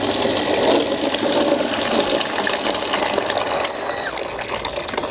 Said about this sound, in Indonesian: sekarang kita akan nyalakan ya pompanya